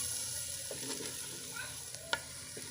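Chicken with tomatoes browning in a clay pot makes a soft, steady sizzle with light stirring scrapes and one sharp tap near the end.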